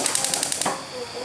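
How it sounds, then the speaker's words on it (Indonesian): A gas stove is switched on in a home kitchen: a rapid series of igniter clicks followed by a soft hiss as the burner catches, short and close. "kita hidupin dulu kompornya"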